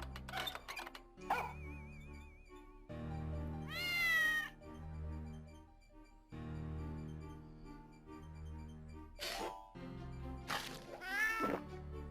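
A cartoonish cat meows several times in the hidden-object video game Mystery Case Files MillionHeir, loud rising calls over soft background game music with other animal sounds mixed in.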